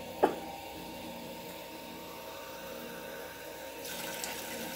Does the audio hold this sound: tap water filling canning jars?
yes